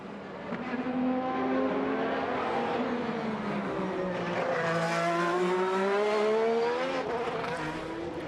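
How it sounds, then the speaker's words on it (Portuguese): An IndyCar race car accelerating during qualifying at the Detroit Grand Prix street circuit: a loud, close engine whine that climbs and sweeps in pitch through gear changes, sustained throughout with no talking. "Palou, acelerando seu carro"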